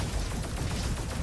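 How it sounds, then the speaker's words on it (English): Small robot minions burst apart in quick succession in the game Roboquest, a brief, crowded run of overlapping explosion pops and gunfire-like cracks at moderate volume. "all the small minions explode"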